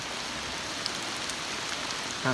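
Rain comes down on a remote abandoned field hut at night as an even, close hiss, with a faint tick partway through and a soft low thump right at the end.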